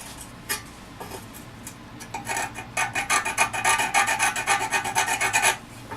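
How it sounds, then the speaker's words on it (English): A scribe or sharp point scratching cut marks onto a steel exhaust pipe made from a rake handle, a few scattered scrapes building into a steady run of quick rasping strokes, close and alone. "just make a couple scratches."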